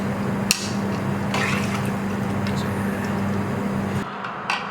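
Water pours into a pot of cooking lamb for shatkora, a steady rushing fill with a low hum beneath, a couple of sharp knocks, then it stops abruptly near the end.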